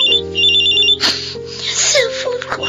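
A cellphone rings in a classic Filipino radio drama with a loud electronic warbling tone, then gives way to a burst of noisy sound effects.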